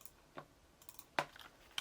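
Ctrl+G pressed on a computer keyboard during Photoshop work, heard as three faint, separate key clicks spaced across under two seconds in a quiet room.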